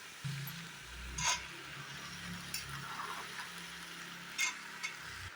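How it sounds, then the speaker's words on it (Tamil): Vegetables and soaked beans sauté in oil with a low, quiet sizzle, broken by occasional scraping and clinking strokes from a stirring spoon. "இப்போ இது கொஞ்சம் நேரம் எண்ணெயிலே வதக்குவோம்"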